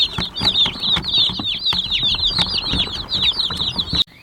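Baby chickens from a hatchery peep constantly in a high, busy chorus, with wing flaps and soft scuffling mixed in, close and fairly loud before an abrupt stop.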